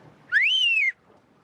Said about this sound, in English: I'll whistle